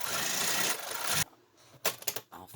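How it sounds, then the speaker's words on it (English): Sewing machine stitching quilt sections together runs in a steady, close whir for about a second, then stops, followed by a few soft handling rubs and taps of fabric. "I continue with that until I have all 5 sections sewn together."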